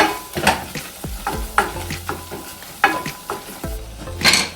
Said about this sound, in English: As you can see, the flour and the butter are mixing nicely together.